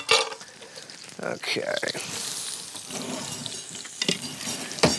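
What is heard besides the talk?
onions sauteing and sizzling in a pan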